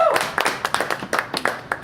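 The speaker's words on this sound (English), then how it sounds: "clapping's good enough" Hand clapping in a podcast studio, a short run of about a dozen close, crisp claps at a steady, slightly uneven pace, with no voices during it.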